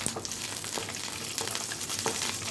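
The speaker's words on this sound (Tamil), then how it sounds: "இப்போ முந்திரியை சேர்த்து வறுத்துக்கலாம்" Cashews fry in hot ghee in a pan with a soft, continuous sizzle and light crackling, punctuated by occasional spoon stirs, quiet and close with no talking.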